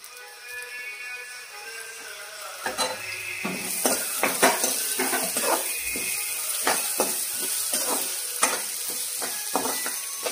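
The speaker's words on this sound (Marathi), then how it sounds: "थोडा भाजून घ्यायचा चांगला कांदा" Chopped onion frying in a pan with turmeric and coriander powder, a steady sizzle under repeated scraping and stirring clicks of a spoon against the pan, fairly close and continuous with no talk.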